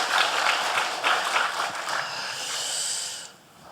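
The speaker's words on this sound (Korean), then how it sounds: "옆에 계신 분들에게도 박수 한번 해주시고" Congregation in a church applauding the choir and others, a dense wash of steady clapping that fills the space before tapering off at the end.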